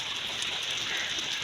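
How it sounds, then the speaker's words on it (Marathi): Steady rain falls in a constant even hiss, close and uninterrupted, with no voices over it. "दाखवतो तुम्हाला पाऊस पडतोय ते"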